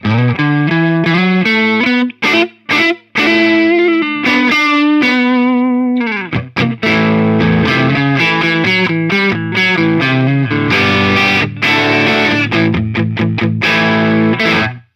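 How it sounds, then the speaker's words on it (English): Valiant Jupiter offset electric guitar plays a distorted riff through a Marshall amp, with chunky chords, quick stops and sustained ringing notes wrapped in chorus-like shimmer, loud and close with no speech. "That intro riff was through the S320, the Marshall."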